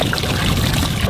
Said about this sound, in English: I'm going to check the outflow, make sure it's punching water out.